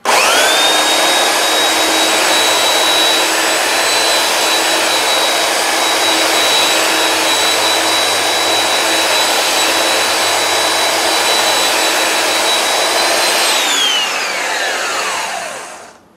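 Power sander running continuously on clamped wood pieces, a loud, steady high-pitched whine and rushing hum that holds for about fourteen seconds before spinning down.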